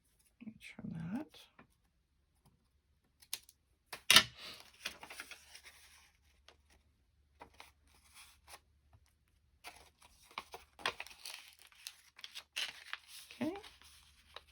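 Paper is trimmed by hand for a hidden pocket envelope flip, giving faint, sparse snips and light rustling with a sharper click near the middle, all quiet and close with long near-silent gaps.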